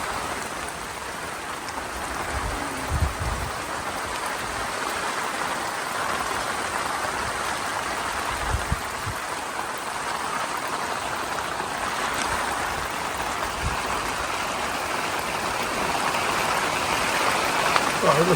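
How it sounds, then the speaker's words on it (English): Rain falls steadily at a carp fishery during worsening stormy weather, a continuous close hiss of drops with gusty rumbles underneath, growing slightly heavier toward the end. "Let's get a bit of rain on it."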